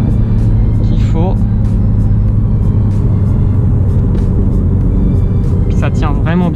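A Mini John Cooper Works F56 hatchback on an open road, its engine a steady, loud rumble throughout, with faint tire and road noise and a brief higher whine near the end.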